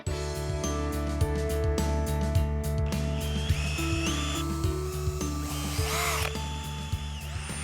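A power drill whirs steadily while boring pilot holes into wood for a homemade tyre seesaw, its motor whine rising and falling in pitch through short, repeated bursts, close and fairly loud.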